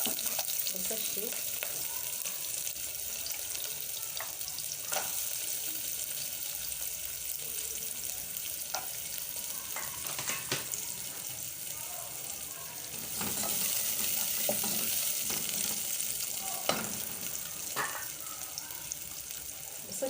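Onions frying in oil in a pan, stirred now and then: continuous bright sizzle under scattered scrapes and taps, growing louder partway through, with faint background noise and no clear speech.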